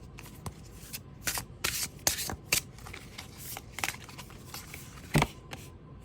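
Starry Arcana tarot cards with a smooth, matte, non-linen finish being shuffled up close, a run of quick riffling bursts and soft slides repeating every second or so.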